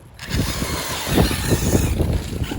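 A race truck engine revs hard at full throttle, a loud, rough, pulsing roar that builds quickly and stays sustained through the short burst, heard close with no talking.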